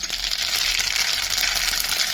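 Sesame seeds go into a hot oil tempering already holding mustard seeds and cumin, giving a loud, steady, dense crackling sizzle that runs unbroken from start to finish with no voices.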